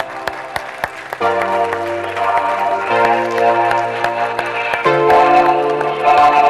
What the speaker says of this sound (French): Benoît Gasquet et Emmanuel et Lévy qui vont venir nous rejoindre sous les applaudissements, évidemment.